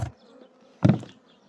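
Anatolian honey bees at the hives give two short buzzing bursts close by, with near silence between them.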